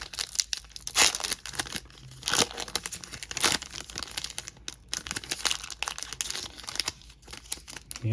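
Foil wrapper of a pack of 2022 Contenders football retail trading cards being torn open and crinkled, close and crisp, a few sharp rips among steady crumpling rustles, no talking.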